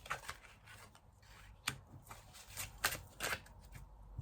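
Oracle cards being shuffled and drawn by hand, giving soft, close papery riffles and slaps in short irregular bursts with no talking.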